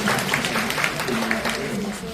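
An audience at a Thai fundraising event for a hospital operating room claps for the doctors, a busy patter of hands heard under a voice talking over it through the whole moment.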